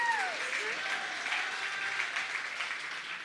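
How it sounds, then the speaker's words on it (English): Steady audience applause fills a forum hall on teachers' issues, a broad even clapping from a crowd that holds throughout, with a brief voice at the very start. "so let's give him a big round of applause"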